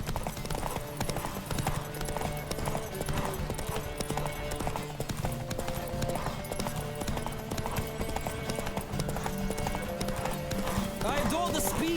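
A horse galloping hard in a race in The Witcher 3, hoofbeats drumming steadily through the whole stretch beneath game music, with a voice speaking over the ride and a brief whinny near the end.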